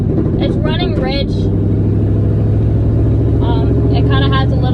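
A Ford Mustang engine running rich with a slight misfire idles with a loud, continuous low rumble, while a person talks over it near the start and again toward the end.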